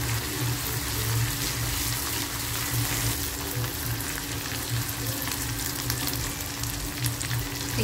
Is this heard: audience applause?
no